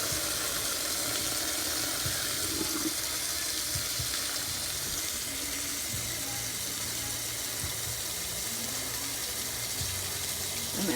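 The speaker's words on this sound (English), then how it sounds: "I'm adding the water to it" Tap water runs steadily into a cooking pot for making red sauce, a continuous loud rushing splash that holds unbroken throughout.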